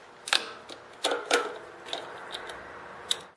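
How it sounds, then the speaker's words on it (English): Several sharp metallic clicks and ticks spaced irregularly, close and fairly quiet, as bolts on a generator's ignition module are tightened with a hand tool. "Now hold the ignition module and tighten up the bolts."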